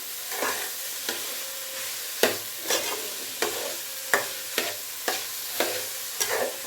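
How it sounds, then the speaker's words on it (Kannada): Beetroot sizzles steadily in hot oil while a spoon scrapes and stirs the pan in regular strokes, close up. "ಒಂದು ಸ್ವಲ್ಪ ಎಣ್ಣೆಲಿ ಫ್ರೈ ಆಗಲಿ"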